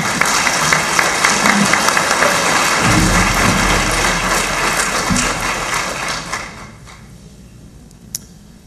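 A room full of teachers at an Icelandic education conference applauds, a loud, dense patter of clapping that holds for several seconds, then thins and fades to near quiet.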